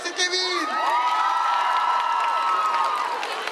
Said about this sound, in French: S'il vous plaît, encore d'applaudissements.